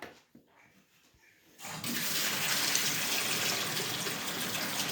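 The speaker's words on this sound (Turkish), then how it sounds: "Şimdi bunu su dolduracağım." Tap water gushes into a container for cucumber pickles, starting abruptly after a couple of quiet seconds with faint handling noise, then a steady, loud, close rush of filling water.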